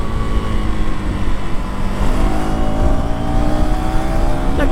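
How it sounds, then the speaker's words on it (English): A KTM Duke 250 Gen 3 motorcycle accelerating hard on a road, its engine note climbing steadily through the revs, loud, close and continuous with no voices over it. "The complete character of this bike changes once we reach those 6500 RPMs."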